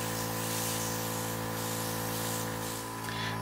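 A steady, soft hiss of an airbrush spraying Dinair FX water-based makeup onto a face, continuous and even for a few seconds, with a faint electrical hum underneath.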